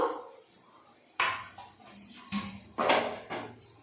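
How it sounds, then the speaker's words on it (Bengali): A metal pot lid lifted off a steamer of veg momos on a gas stove, several close clanks and scrapes of metal against metal separated by short pauses. "এখন হয়ে গেছে, ঢাকনা খুলে নিব।"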